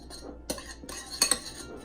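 Cajun seasoning being mixed into a bowl with a utensil, giving a few soft scraping strokes and two sharper clinks of metal against the bowl, close and fairly quiet, with no talking.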